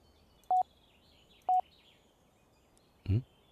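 In the game Someday You'll Return, a phone chimes with a message notification: two short identical beeps about a second apart, then a lower, thicker blip, all clean and distinct over a quiet background.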